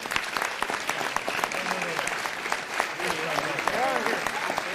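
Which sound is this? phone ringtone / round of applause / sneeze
round of applause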